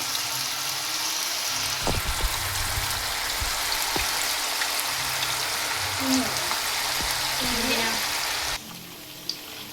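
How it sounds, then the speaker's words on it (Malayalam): Marinated chicken frying in hot oil gives a constant, loud sizzling crackle with occasional pops and clinks, easing slightly near the end. "അപ്പം നമ്മൾ മാഗ്നേറ്റ് ചെയ്ത് വെച്ച് ചിക്കൻ ഫ്രൈ ചെയ്തെടുക്കുകയാണ്"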